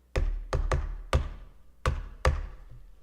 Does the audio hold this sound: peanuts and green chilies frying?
no